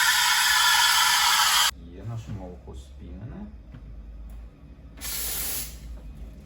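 Loud steady hiss from the steam wand of a Melitta Passione espresso machine frothing milk in a pitcher. It runs for almost two seconds, then gives way to a voice talking and returns just as strongly near the end.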